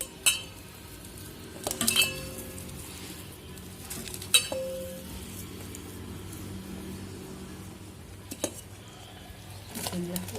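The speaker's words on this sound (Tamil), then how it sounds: "ஸோ இதை நல்லா வந்து நம்ம இப்படி மசிச்சுக்கலாம்." Four boiled potatoes being mashed in a pan for potato kuruma, with scattered metallic clinks and scrapes of a utensil against the pan, irregular and close, under quiet background noise with occasional talk.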